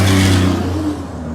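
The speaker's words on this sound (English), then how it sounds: "and you can hear the tractor trailers in the" Heavy tractor trailers roll along a busy four-lane highway, a loud, steady engine drone with low rumbling tones that swell and then ease slightly as a truck passes close by.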